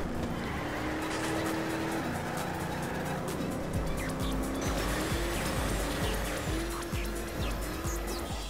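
Race car engine in Trackmania Turbo on PS4 drifting, a steady revving engine tone shifting pitch as the car slides through corners, loud and continuous with no talk over it.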